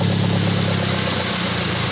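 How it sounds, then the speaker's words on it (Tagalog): Toyota Vios engine idling with a noisy exhaust, shaking and misfiring on one spark plug, a loud, close, steady drone with no voices. "Ingay talaga tambutso mo."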